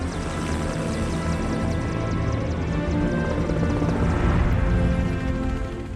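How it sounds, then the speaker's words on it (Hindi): Two search and rescue helicopters arrive over a mountain crash site, their rotors and engines making a loud, continuous, dense roar that swells slightly toward the end. "2 हेलीकॉप्टर्स सर्च एंड रेस्क्यू के फाइनली पहुंचते हैं बचे हुए सर्वाइवर्स के पास"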